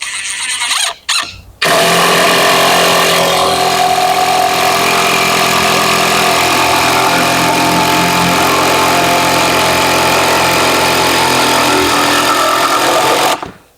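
DeWalt 12V impact driver driving a screw into wood, a brief whir, then a long loud continuous hammering buzz for about twelve seconds before cutting off, close and alone.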